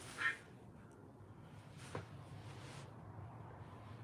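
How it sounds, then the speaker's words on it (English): Ducks quacking faintly in the distance, one short quack early and another brief call about two seconds later, over a quiet low background hum. "And ducks are going mad."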